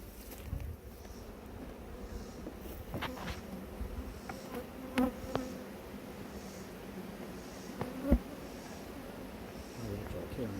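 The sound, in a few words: honeybees buzzing around an opened hive during beekeeping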